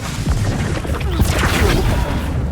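A burst of Incendio fire magic erupts in Hogwarts Legacy, a loud, crackling blast with booming impacts that carries steadily through the whole short stretch.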